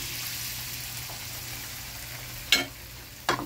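An egg frying in a pan gives a steady, fairly quiet sizzle throughout, with two brief louder crackling spatters near the end.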